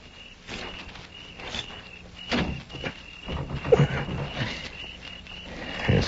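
A bolted door being tried in a tense Old West standoff: a few dull thumps and rattles of the latch and frame, close and moderately loud, in uneven bursts over a faint ambient hiss.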